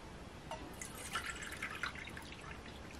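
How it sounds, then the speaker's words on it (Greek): Water poured from a cup into a pot, a soft splashing trickle in short bursts over about three seconds, fairly quiet with no talking. "Θα βάλουμε 3 κούπες νερό."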